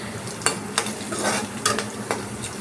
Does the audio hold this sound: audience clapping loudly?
no